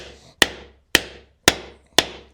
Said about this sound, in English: Let's give it a few hits with the hammer.